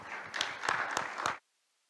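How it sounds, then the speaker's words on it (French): A brief burst of applause from a conference audience follows a panelist at a public-private investment dialogue, with dense clapping and a few sharp claps before it stops abruptly into silence. "je dis bravo, et puis applaudissements pour le panéliste"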